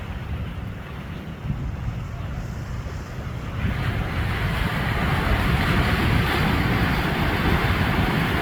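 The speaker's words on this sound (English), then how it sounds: "These waves are a little bigger." Large ocean surf rolling in at Morro Bay, California, after storms, a steady broadband roar of breaking waves with wind buffeting the microphone, growing louder midway and continuing without talk.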